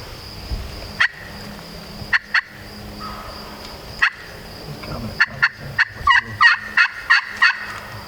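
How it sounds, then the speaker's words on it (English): A wild turkey gobbles repeatedly outdoors during a hunt, a few spaced gobbles early and then a rapid cluster of loud, sharp gobbles toward the end, clear against quiet background. "Yeah, you gobbled again."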